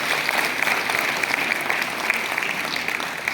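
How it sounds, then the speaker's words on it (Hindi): Sustained audience applause fills a hall in Patna as newly appointed child development project officers welcome the secretary at an appointment-letter ceremony, steady dense clapping from start to finish with no speech. "लोग स्वागत करेंगे तालियों से।"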